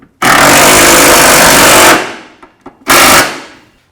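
A power tool snugs bolts on a 2007-16 GMC Acadia rear shock, two loud rattling bursts, the first about two seconds long and the second shorter, with small clicks between them.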